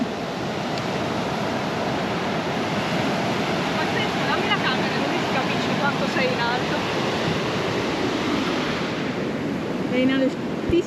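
Ocean surf on the beach at Puerto Escondido, where the sand drops steeply to the sea, roars as a steady, loud wash of breaking waves mixed with wind buffeting the microphone.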